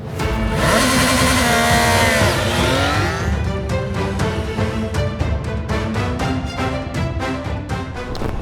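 A Triumph Tiger Sport 660 motorcycle engine roars up close, revs climbing then dropping as it shifts gear and pulls through city traffic, loud and continuous.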